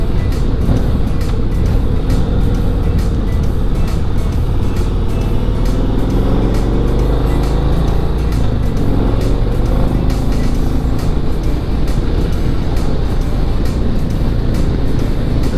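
An 850-pound touring motorcycle accelerates in road mode, its engine a steady, loud drone with rising harmonic sweeps as it gathers speed, heavy wind rush underneath and no voices.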